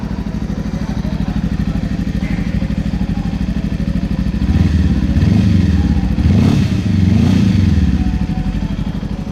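A Victory Venom 400 two-cylinder motorcycle idles nearby with a loud, throbbing beat, then gets two short partial revs that swell and fall back to idle.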